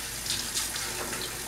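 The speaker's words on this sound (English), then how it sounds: "We gotta wash her really quick." Tap water running into a kitchen sink while a half-cup measuring cup is rinsed, a steady close gushing stream with faint splashing changes and no talking.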